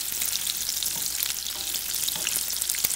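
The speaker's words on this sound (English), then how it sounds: "we're going to sear up some pearl onions" Pearl onions sear in a hot pan, giving a dense, steady sizzle throughout with scattered crackles and a few soft pops, close and loud with no voices.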